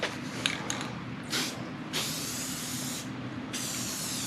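A spray paint can lays down fine, low-output coats on '86 Ford Ranger 4x4 axle and hub parts: several short hissing bursts, then two longer steady sprays, close and moderately loud with no talking.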